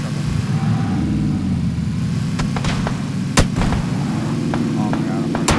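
Gunshots striking a vehicle during a PUBG squad fight on a bridge, several sharp scattered cracks and impacts over a steady droning engine, close and loud.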